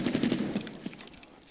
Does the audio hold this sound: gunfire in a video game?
yes